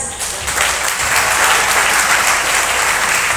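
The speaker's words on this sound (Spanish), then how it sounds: "Bueno, sí, esos aplausos." A school reading competition audience in Ecuador bursts into steady, full applause, dense clapping that holds evenly for a few seconds.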